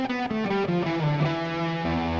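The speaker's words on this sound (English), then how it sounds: "what if I play E Phrygian?" A distorted electric guitar plays a quick run of single notes in E Phrygian, stepping through the mode in a short, steady phrase and ending on a sustained chord.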